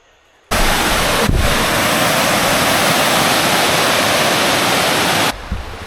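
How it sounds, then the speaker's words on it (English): Rushing water after heavy rain pours steadily as a dense, loud roar for about five seconds, starting and stopping abruptly. "It's been raining a lot, so that makes sense with all the water flowing."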